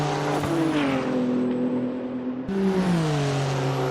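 BMW M4 GT3 race car at Sepang in a racing game, its engine note droning loudly and steadily, then dropping and shifting pitch midway as it brakes and changes gear.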